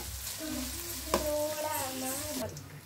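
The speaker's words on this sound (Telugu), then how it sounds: "కొంచెం గోల్డెన్ ఫ్రై అయ్యేంత వరకు బాగా వేయించుకుందామండి." Onions and curry leaves sizzle in hot oil for egg fried rice, a steady close frying hiss with a faint voice drifting over it.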